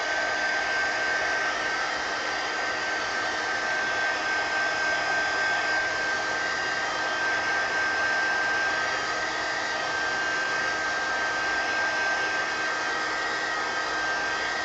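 A heat tool drying ink on a paper craft project, a steady, even blowing whir with a faint high whine that holds at constant loudness throughout.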